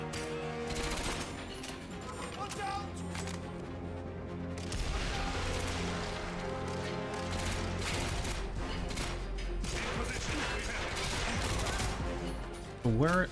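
A gun in GoldenEye 007: Reloaded fires in sustained, rapid strings of shots, fairly loud, broken by mechanical clanks and a sharp sweep near the end.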